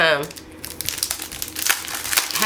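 Designer paper pack with an Easter theme being opened, its sheets crinkling and rustling in a steady, close stream of crumpling noise over about two seconds, with a short vocal sound at the start.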